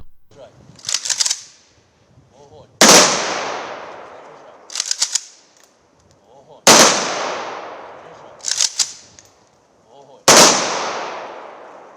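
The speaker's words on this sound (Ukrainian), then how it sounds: "На знак прощання з героєм пролунав триразовий військовий салют." Three loud volleys of rifle fire from a military funeral salute crack out at regular intervals, each followed by a long echoing decay, with shouted commands between them.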